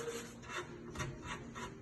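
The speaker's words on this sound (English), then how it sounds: "take some a sanding block and just rub it over" A sanding block rasps back and forth over the cut edges of installed film in several quick, rhythmic strokes, close and dry.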